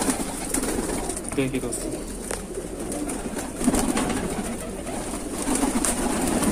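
Sajanpuri female pigeon cooing softly amid a steady hum of other birds in a loft, with someone talking over it.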